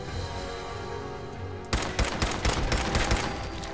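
Rapid bursts of gunfire from the video game Fallout 4, a dense cluster of close, loud shots erupting after a quieter ambient stretch and continuing in uneven volleys.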